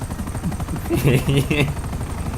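Apache helicopter machine gun fire rattles in a city shootout in GTA Online, a fast continuous burst of low pops under someone talking.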